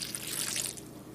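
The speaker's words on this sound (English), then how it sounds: "To that, I'm going to be adding 1/3 a cup of water." About a third of a cup of water pours onto a little over a pound of fresh ground beef, a soft hissing splash and trickle heard up close and alone, ending in a brief final drip.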